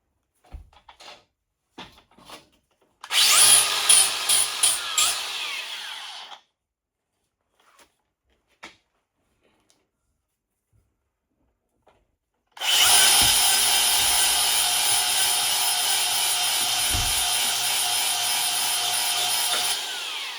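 A power sander works paint off metal airbag mounts, running loudly in two long bursts separated by a stretch of near silence with a few faint clicks and knocks.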